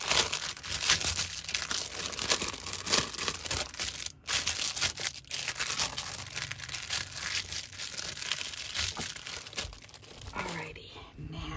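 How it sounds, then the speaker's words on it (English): Plastic bags crumpled and crinkled by hand continuously at close range, busy crackling rustle with brief pauses, while someone talks quietly in the background. "Plastic bags that I'm saving"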